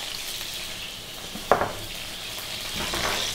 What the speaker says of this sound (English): we're next going to go straight in here with some onion and some other ingredients